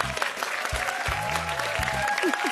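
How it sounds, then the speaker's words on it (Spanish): Studio audience applause on a television game show, brisk continuous clapping with a deep musical tone and some voices beneath it, loud and close throughout. "aplausos para ellos"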